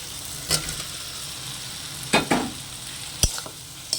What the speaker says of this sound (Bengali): দিয়ে ভালো করে মশলার সাথে কষিয়ে নেব।